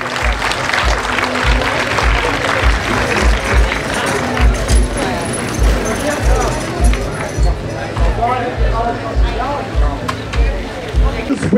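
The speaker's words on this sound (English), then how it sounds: "Huge round of applause." An outdoor costume parade crowd applauding participants, a dense, lively clatter of clapping with rhythmic thumps and murmuring voices mixed in, loud and sustained throughout.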